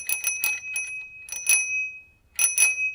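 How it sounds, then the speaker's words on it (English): A small kid's bicycle bell fitted to a handlebar rings close and bright in quick bursts of two or three dings, with short pauses between them. "The grips and a kid's bell have been installed."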